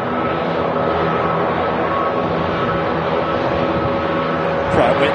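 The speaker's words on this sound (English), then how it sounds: "nice sound of the Turkish Neos taxiing right past us" A Turkish A320neo-family airliner with Pratt & Whitney engines taxis past at Manchester Airport, producing a loud, steady, close engine roar and whine that holds evenly throughout.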